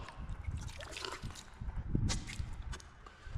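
Brackish water of a tidal river trickles and drips close by in soft irregular gurgles, with a few light footstep-like scuffs among them.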